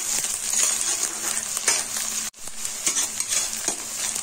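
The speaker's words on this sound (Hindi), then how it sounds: "प्याज को 2 मिनट तक फ्राई करेंगे।" Chopped onion and cumin seeds frying in a pan, a steady close hiss with faint stirring scrapes and a brief pause midway, no voices.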